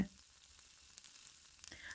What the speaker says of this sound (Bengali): রসুনটা আর কাঁচা লঙ্কাটা ভাজা হয়ে গেছে বলে সেটাকে একটু নেড়ে চেড়ে নিচ্ছি